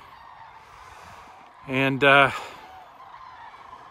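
Migrating sandhill cranes pass overhead, giving two loud, harsh rattling calls in quick succession above a quiet outdoor background.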